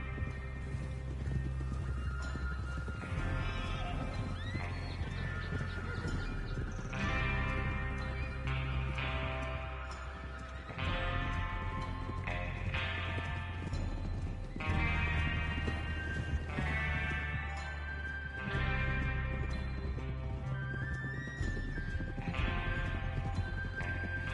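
Horses gallop in Red Dead Redemption 2, their hooves drumming in a fast steady rhythm alongside periodic neighs and snorts, all set against a swelling musical score with no speech.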